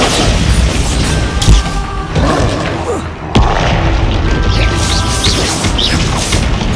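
A Bombarda spell explosion in the video game Hogwarts Legacy booms loudly amid dense, continuous combat effects, with a sharp blast near the middle.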